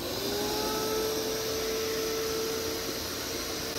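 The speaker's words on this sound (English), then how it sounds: "once I start the vacuum, it's gonna hold that nice and tight" A shop vacuum runs steadily and loudly throughout, its continuous broadband roar joined by a sustained whine, used to suck a new pontoon boat bimini top cover tight during installation.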